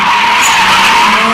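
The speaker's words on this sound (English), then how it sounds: "Just go get stupid a little bit, go sideways, burn up some rubber." A 1994 Toyota Supra drifts sideways with a loud, sustained tire squeal and engine roar, close and unbroken for over a second.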